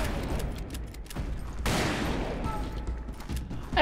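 Gunfire rattles in the Western shooter video game Call of Juarez, rapid loud volleys and a heavy blast blending into a dense battle din, with a player's voice talking over the action.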